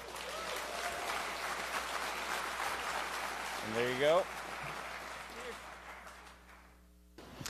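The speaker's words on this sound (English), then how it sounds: "let's give him a round of applause" An audience claps at a DEF CON security conference talk, a steady wash of applause filling the hall, with a presenter speaking briefly over it before it fades out.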